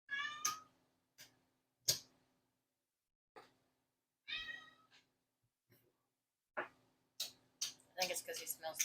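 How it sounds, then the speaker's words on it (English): A cat meows indoors in short, separate calls with quiet gaps between them, close by and moderately loud, ending in a quicker run of cries, with no talk over them. "Cat wants to make an appearance again."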